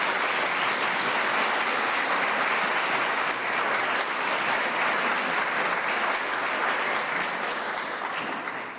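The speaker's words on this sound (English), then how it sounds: "Can we give them a round of applause?" A lecture audience breaks into a full, steady round of applause, dense and even for the whole stretch before tapering off at the very end.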